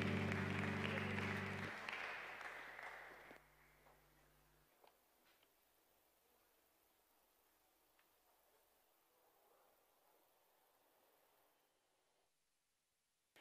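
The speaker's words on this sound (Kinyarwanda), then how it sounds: "Reka tubahe amashyi menshi abakozi b'Imana." Congregation applause for a church worship team at a wedding service, a loud burst of clapping for about three seconds that thins out and fades into quiet room tone with a few faint ticks.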